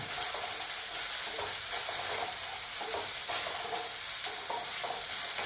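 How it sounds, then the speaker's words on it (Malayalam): Okra sautéing in a pan alongside carrot, a steady close sizzle with soft, regular stirring scrapes over about five seconds, no one speaking. "വെണ്ടയ്ക്കും കൂടി ഒന്ന് വാടി വരട്ടെ."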